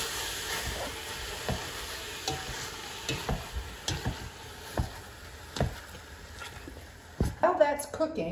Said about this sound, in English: So I've got about 3 pounds here of ground turkey. And I just break it up and cook it.